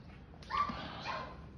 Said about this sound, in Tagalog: pasensya na po sa maingin na aso